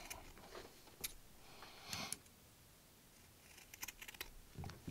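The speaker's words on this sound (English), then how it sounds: "Now let's just trim them. So you want to cut it right about at the edge of the deck." Quiet, close snips of scissors trimming fluffy cotton vape wicks at the edge of a 20g Redux rebuildable deck, a few soft cuts spaced irregularly over faint background hiss.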